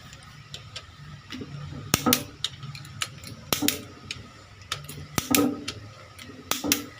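Sharp metallic clicks and ticks in irregular bursts from a torque wrench tightening engine bolts during a Maruti Swift engine assembly, close and fairly quiet.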